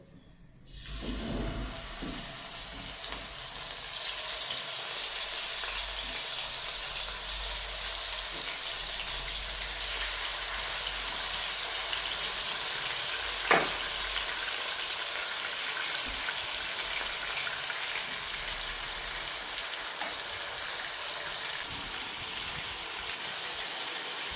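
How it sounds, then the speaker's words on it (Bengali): Bagh air fish frying in hot mustard oil gives a loud, steady sizzling hiss that runs unbroken from start to end, with one brief sharp click near the middle and no voices. "এখন আমি মাছটাকে ভেজে নেব।"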